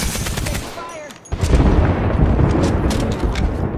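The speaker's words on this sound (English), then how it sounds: "it's the weapon sounds that I had some mixed feelings with" Weapon fire in the battle royale shooter Apex Legends: a dense, loud stretch of rapid shots and booming impacts with a brief dip partway through, and a voice faintly underneath.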